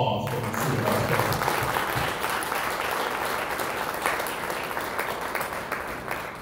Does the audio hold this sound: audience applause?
yes